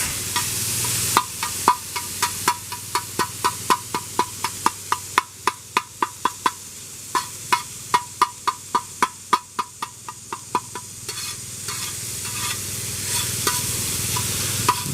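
Asian carp fish frying in light olive oil in a hot pan for fajitas, with a steady broadband sizzle and a run of regular, sharp clinks and scrapes from a utensil stirring and turning the pieces.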